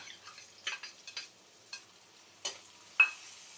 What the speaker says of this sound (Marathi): कांदा पण छान असा गुलाबी रंगावर परतून घ्यायचा आहे